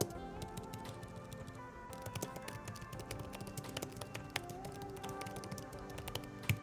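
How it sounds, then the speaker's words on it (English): Fast, steady typing on the thin chiclet keys of an Apple M1 iMac Magic Keyboard, a close dense patter of light plastic clicks with no speech over it. "Here's a sample of me typing."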